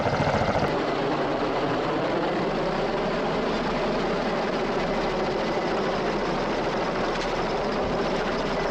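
A helicopter hovers and works while carrying containers off a ship at Terra Nova Bay in Antarctica, a loud, constant roar of engine and rotor with a low throbbing beat throughout, and no talking.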